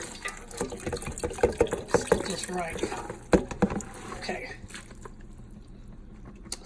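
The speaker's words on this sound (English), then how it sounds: "I'm going to add the greens to this pot mixture" Collard greens are poured into a pot of liquid in a home kitchen, giving a series of wet splashes and sloshes, with a person talking over them before the sound fades.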